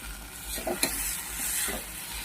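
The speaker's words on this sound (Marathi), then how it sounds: "अशा पद्धतीने हलवून घ्यायचं आहे पूर्ण आता" Paneer tikka masala being stirred in a pan, soft scraping strokes and a sharp clink of the spoon over a gentle background sizzle, close and fairly quiet, with no talking.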